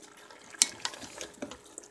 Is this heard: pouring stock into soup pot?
yes